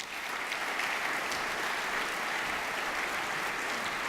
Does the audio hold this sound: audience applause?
yes